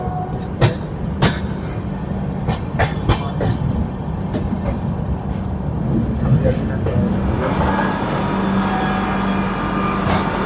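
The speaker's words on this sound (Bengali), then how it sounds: "এখন আমাদের ট্রেন প্রবেশ করছে আজিমগঞ্জ জংশন।" A train rumbles and clatters steadily from inside a carriage of the Kolkata–Kamakhya Garib Rath Express entering Azimganj Junction at night, with rhythmic rail clicks, grinding, and voices talking over the noise.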